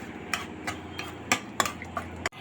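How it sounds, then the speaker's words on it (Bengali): Bay leaves, dried chillies and cardamom being stirred in hot oil, with a low sizzle under a handful of quick spoon scrapes and taps against the pan, ending abruptly. "এখন আমি দিয়ে দিব দুইটা তেজপাতা তিনটা শুকনা মরিচ তিনটা ইলাচ এবং ডাল দিয়ে এগুলো একটু সুন্দর করে নেড়ে নিব"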